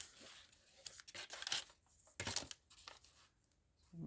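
Packaging tape paper torn off by hand in a few sharp, crackly rips separated by short pauses, heard up close in a quiet room with no voices.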